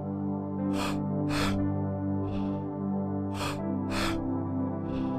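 Deep rhythmic breaths during a guided breathwork class, four strong airy inhale-exhale bursts with softer ones between, close and loud over a steady low musical drone.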